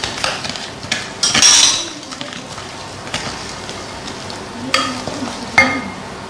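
Egg yolks are stirred into ginger vanilla cookie dough in a bowl, with scraping, clinking strokes of a utensil against the bowl at an uneven pace, close and moderately loud.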